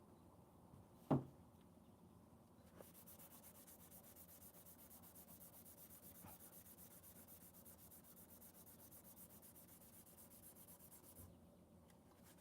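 Bondo glazing spot putty is sanded by hand in a long, continuous scratchy rub, steady and close, beginning after a brief knock and running for several seconds without speech.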